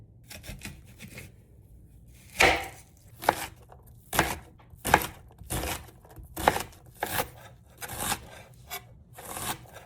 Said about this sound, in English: Dice any color onion.